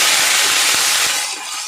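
Bay leaf and onion paste sizzling in hot oil, a loud continuous hiss with a few soft low knocks, easing slightly near the end, no voices.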